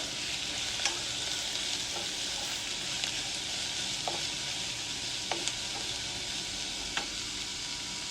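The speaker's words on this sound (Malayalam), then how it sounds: "അത് നല്ലോണം കാരമലൈസ് ആവണം, നല്ല ഗോൾഡൻ ബ്രൗൺ ആവുന്നവരെ വഴറ്റണം" Onions sauté in oil until golden brown for a Thalassery chicken biryani, a constant even sizzle with occasional light clicks of a spoon stirring, close and alone without speech.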